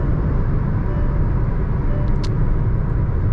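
Cabin of a Hyundai Creta N-Line with its 1.5 turbo GDI petrol engine at 2700 RPM on the highway, a steady, loud low rumble of engine and road noise with no talking.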